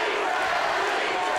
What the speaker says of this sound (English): You hear the crowd starting to chant Shelly to get their hometown hero going here in the third round.